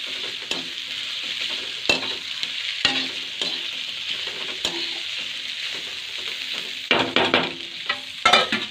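Carrots and cabbage for Maggi noodles cook in a covered pan with a steady close sizzle, broken by occasional clicks and louder stirring bursts near the end.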